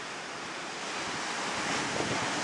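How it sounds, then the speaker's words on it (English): Ocean waves break on a rocky shore at Acadia National Park in Maine a day after a hurricane passed, a loud, continuous roar of surf with wind buffeting the microphone and no voices. "The waves are breaking nicely today after Hurricane Dorian passed through here yesterday"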